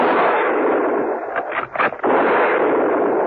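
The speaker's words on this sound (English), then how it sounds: "They heard the shots from the deserted garage and ran towards it." A radio drama firing squad lets off a burst of several rapid gunshots, loud and close, cracking through a steady hissing background.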